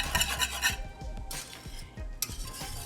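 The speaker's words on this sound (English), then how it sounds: "just have to just keep stirring it so it doesn't boil" Lemon curd being stirred in a pot on the stove, a spoon or whisk scraping and clinking against the metal in steady repeated strokes, with brief pauses between bursts of stirring, close and moderately loud with no talking.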